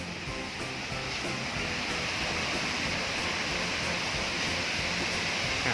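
A waterfall found at a stop by a Bangchak petrol station gives off a continuous rushing, hissing wash of falling water, steady and fairly close, with no voices over it.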